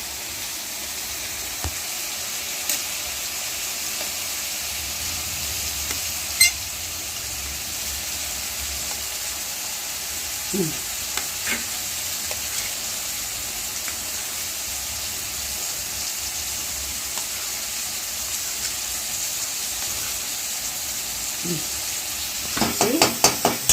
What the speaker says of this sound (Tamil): இப்போது இந்த மூளையை போட்டு ஒரு வதக்கி கொஞ்சம் மிளகாத்தூள் பாருங்கள் போட்டேன்.